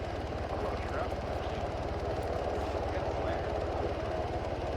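Helicopter rotor chop in the video game Arma 3, a steady low rhythmic thumping at moderate level that runs unbroken throughout, with faint voices underneath.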